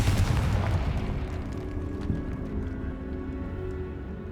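Confringo blasting spell exploding in Hogwarts Legacy, a loud booming burst at the start that decays into a low rumbling tail with scattered crackles and a smaller thud midway.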